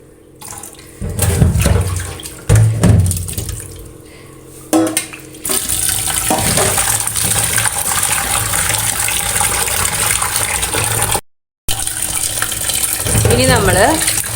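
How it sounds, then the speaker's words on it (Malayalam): Sardines are washed in a sink under running tap water, with splashing and handling at first, then a long steady gush of flowing water, broken by a brief gap. "ഇനി നമ്മൾ ഇതേപോലെ 1-2 പ്രാവശ്യം കൂടി ഇങ്ങനെ കഴുകിയെടുത്താൽ മതി."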